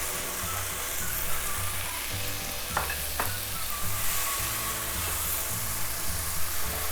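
Okra cooking uncovered in a pan sizzles steadily up close, an even frying hiss with occasional soft stirring clinks and no voices over it.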